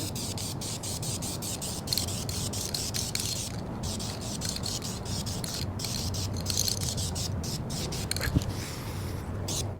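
A spray gun lays a first coat of paint on a rebuilt Chevy inline-six engine for a 1948 Chevy, a steady close hiss running unbroken, with faint shuffling and handling noises underneath.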